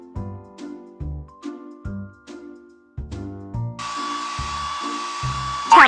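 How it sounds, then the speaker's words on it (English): Hair dryer blowing in a PAW Patrol children's video game while a pup's fur is dried, a steady synthetic whoosh that starts partway through after a series of plinking game tones and runs on to the end. "The hair dryer to blow dry the pup's hair."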